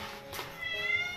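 Domestic cats meow at feeding time, a short call rising over a soft background of movement, close by and moderately loud.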